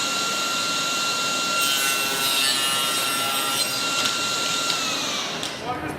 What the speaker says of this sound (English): I just need to cut a little stripe off